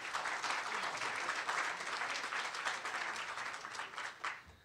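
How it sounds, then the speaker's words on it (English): An audience applauds steadily, a dense wash of clapping heard from within the crowd, tapering off toward the end. "Let's have a round of applause for John."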